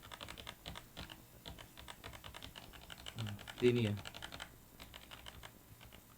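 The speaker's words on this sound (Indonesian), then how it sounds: "ini aku pencet keyboard ini" Computer keyboard keys pressed during a Clip Studio Paint animation lesson, a scattered run of light clicks and taps heard under a man's nearby speech, with a brief louder thump near the middle.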